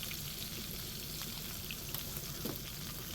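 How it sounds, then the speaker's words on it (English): Cajun-seasoned potatoes sear in a hot pan with a steady, faint crackling sizzle, with small pops scattered throughout. "Get them in the pan. Good sear on those."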